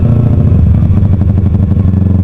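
A loud, throbbing LeoVince aftermarket motorcycle exhaust rumbles steadily at close range, its deep, uneven pulsing filling the space without pause.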